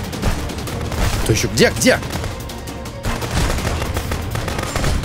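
Video game gunfire crackles in steady bursts throughout, loud and close, with a player talking excitedly over the shots.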